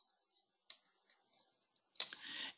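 A computer mouse clicks the OK button in a Microsoft Excel save dialog, giving a single faint, close click, followed by a louder rustle toward the end.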